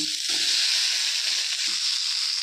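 Raw plantain pieces fry in hot oil in a pan, giving a loud, continuous close-up sizzle with faint bubbling and a couple of soft knocks, no voices.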